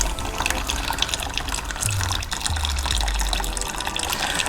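Fluid drains steadily out of a Mercedes CLK350 W209 with the M272 engine, a continuous close trickling and splashing stream that holds at an even level without a break.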